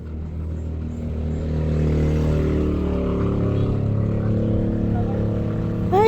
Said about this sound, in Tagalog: Maingay talaga yung mga ibang motorsiklo na dumadaan dito guys.